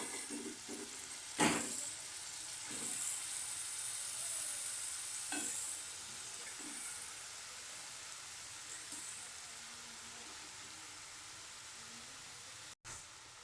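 Washed cabbage and chopped tomatoes hiss and sizzle faintly in a hot pan, with a soft steady frying noise and a few sharp clatters near the start as the vegetables go in.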